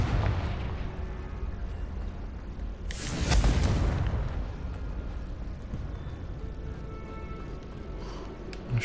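A Confringo spell explosion in Hogwarts Legacy erupts as a single burst about a third of the way in, standing out over a steady, fairly quiet game background that continues afterward.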